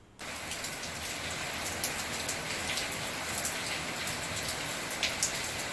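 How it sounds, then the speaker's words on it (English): Steady rain pattering on a surface, a dense continuous hiss with occasional louder drops, close and unbroken throughout. "As you can see, as you can hear, rain, cloudy and windy."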